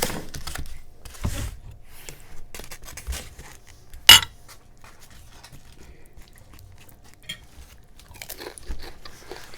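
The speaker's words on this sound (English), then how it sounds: "Y'all hear that crunch?" Cheesy Doritos nacho chips being crunched and chewed up close at a meal, with scattered crisp bites and one sharp loud crunch near the middle, no talking.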